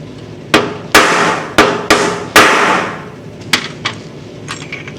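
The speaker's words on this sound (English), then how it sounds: "Just a couple of taps with the hammer." A hammer taps parts out of an International Harvester Scout 800 under restoration: about eight sharp metallic strikes, the first several loud with ringing decay and the last few lighter, close by with no talk.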